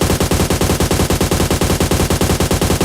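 Rapid automatic gunfire in the PUBG video game, a loud, close, continuous burst of evenly spaced shots lasting about three seconds with no talk.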